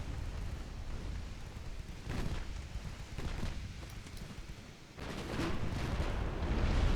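Naval guns fire and shells explode in a sea battle video game, heavy rumbling booms and bursts rolling one after another over a constant low roar, loud and dense, with no talk.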